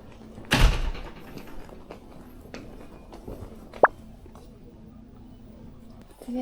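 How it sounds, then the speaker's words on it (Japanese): An automatic door opens aboard the Baltic Princess ferry with a loud, brief whoosh and thud near the start, followed later by a single sharp click, over a quiet hum. "これ自動ドアなんだ"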